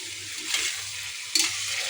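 Green beans stir-frying in hot oil, a soft continuous sizzle with two brief stirring bursts, close and fairly quiet, no talking.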